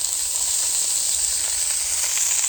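Onions fry in oil on a Callow four-burner plancha griddle, giving a loud, constant, bright sizzle with light spitting, close up and without talk.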